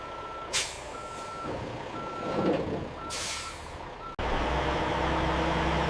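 A loaded truck carrying carrot pulp at a processing facility reverses with intermittent beeps and an air brake hiss, then its engine rumbles louder as it pulls away, close and steady.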